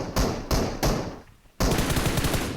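Gunfire in the mobile battle royale game PUBG Mobile aimed at a bot, several sharp close bursts of rapid shots separated by short gaps, then a longer continuous volley.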